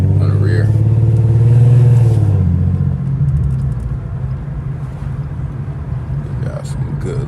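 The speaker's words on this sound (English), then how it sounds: "Got some good little exhaust notes." A straight-piped 400 hp Infiniti Q50 exhaust rumbles and drones loudly from the cabin, swelling at first and then settling to a steady low growl, while someone talks over it.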